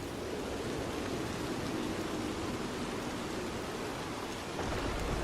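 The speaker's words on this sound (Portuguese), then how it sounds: "A chuva vai se intensificando, se intensificando, se intensificando, cada vez mais pesada." Heavy rain pours in a dense, steady roar as a sound effect, with a deep rumbling layer underneath and no pauses throughout.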